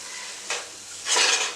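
Marzipan mixture of sugar being stirred in a bowl, two short scraping bursts, the second louder and longer, with soft clinks of utensil against dish and no talking.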